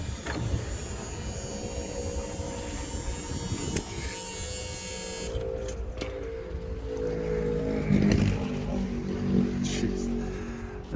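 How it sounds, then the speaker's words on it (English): Cars in a street parade pass outside, a steady broadband engine rumble and whoosh that swells toward the end, heard from a distance with no talking. "So we got a parade going by out here"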